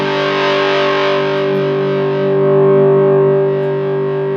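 Guitar through a home-built Big Muff-style distortion pedal with low drive, one loud fuzzy chord held and slowly fading, smooth and sustained, with no talking over it.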